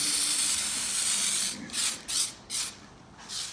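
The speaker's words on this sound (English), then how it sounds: "We're gonna put a nice coat of primer on it" Spray can of primer hissing onto a Honda CRX part, first in one long steady burst, then in four or five short separate bursts, close and fairly loud.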